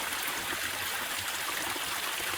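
Continuous rushing water of a low-flowing mountain stream feeding a micro hydro turbine in Tasmania, a steady broadband wash with small gurgles, close and uninterrupted.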